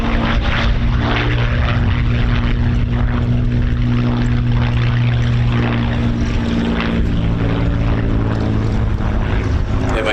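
Spitfire MH434 with its Rolls-Royce Merlin 63 piston engine flies at an airshow, a loud, continuous propeller drone with a steady low engine hum and a slowly shifting pitch as it passes.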